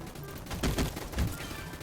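Gunfire in the Roblox shooter Gunfight Arena: a few quick, close bursts of shots over a steady game backdrop, with the loudest cracks clustered in the middle of the moment.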